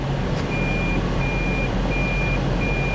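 Reversing beeps from a hybrid Ram 3500 dually pickup at a dealer auction, a steady repeating electronic beep over a low engine idle, close and continuous, no talking.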